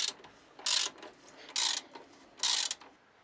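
An 18 mm ratchet wrench loosening a nut on a car's front shock absorber assembly gives three separate bursts of rapid clicking, close and fairly loud, with short quiet gaps between them.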